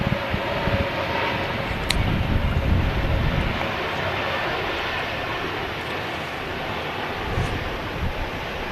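A Lufthansa Airbus A320 in Munich livery taxis toward the start of runway 23 left at Manchester Airport, a steady, loud low engine rumble and roar with wind, continuous and fairly close.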